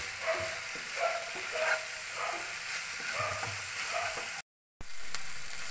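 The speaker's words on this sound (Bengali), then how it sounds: "এবার আমি এটাকে একটু ভাজা ভাজা করে নেব।" Spice masala with salt sizzles and fries steadily in a pan for gondhoraj chicken, a continuous close crackle with stirring scrapes, briefly cut to silence near the end before resuming.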